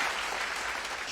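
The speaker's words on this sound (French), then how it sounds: "Est-ce qu'on peut applaudir pour musique une fois de plus?" Audience applause at a televised music talent show in Cameroon, a dense steady wash of many hands clapping, fairly distant and continuous throughout.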